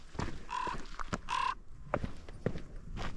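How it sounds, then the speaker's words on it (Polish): A large raven caws several times on Norway's Lofoten coast, harsh croaking calls spaced irregularly at moderate distance amid light footsteps on boards. "Jaki wielki kruk."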